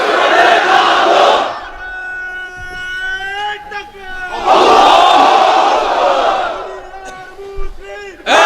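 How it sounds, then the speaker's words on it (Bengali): Unmarried men in a big gathering shout the takbir chant together in two loud massed roars, with one voice calling out the phrase in between. "এবার অবিবাহিতরা দাও লিল্লাহি তাকবীর।"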